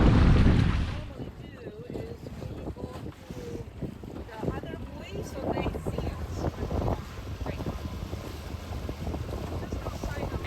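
Wind gusting across a sailboat on a bay before a lake sailing regatta, a steady rushing roar with buffeting mic noise and water wash, strongest in the first second and then continuing as a constant bed beneath faint voices.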